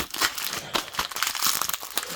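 Plastic Beyblade X booster packaging is torn open by hand, giving a dense, close run of crinkling and crackling with sharp rips throughout and no speech.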